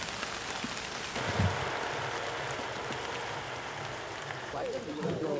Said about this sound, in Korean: 겨울을 재촉하는 가을비가 내리는 날.